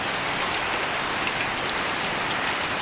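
Heavy, continuous rainfall outdoors on a Friday morning around Ouazzane and Sidi Redouane makes a constant, loud wash of drops pattering on surfaces, alone and unbroken.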